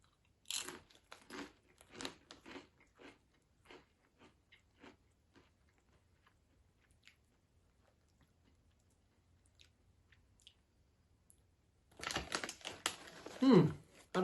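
Crisp crunching bites and chewing of Siete cassava tortilla nacho chips, a run of sharp close crunches that thin into sparse soft chews, then a louder burst of crunching with a brief voice at the end.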